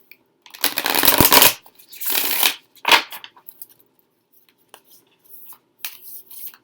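Deck of oracle cards being shuffled close by for a reading, several quick riffling bursts followed by lighter taps and slides, with no voices.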